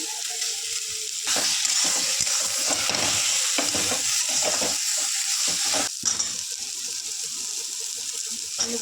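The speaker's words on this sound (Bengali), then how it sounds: "এবার আমি কিছুটা টমেটো কুচি দিয়ে দেবো" Masala paste with turmeric, salt and chopped tomato fries in a pan with a loud, close, continuous sizzle. Stirring scrapes run through it, and the hiss briefly dips about two-thirds of the way in.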